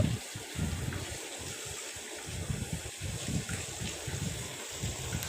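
Urad dal vadas fry in hot oil in a hotel-style kitchen setting, giving a steady, fairly soft sizzling hiss with a low rumbling undertone and no voices.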